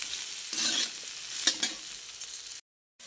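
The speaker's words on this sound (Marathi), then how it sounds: "आता भाजी न झाकता अशा शिजवून घेते" Okra frying uncovered in a pan with salt, a steady soft sizzle with a few stirring scrapes, close and alone, cutting off near the end.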